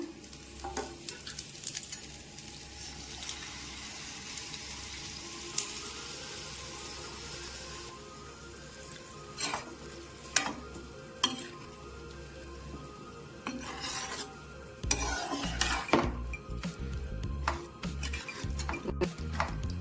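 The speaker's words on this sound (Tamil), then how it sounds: "இப்போ நம்ம ஒயிட் சாஸ் ரெடி பண்ணி வச்சுருந்தோம் இல்லையா, அதை சேர்த்துக்கலாம்." Chicken pasta is stirred with white sauce in a hot pan, giving a steady soft sizzle with a spoon scraping and tapping the pan, louder and busier toward the end.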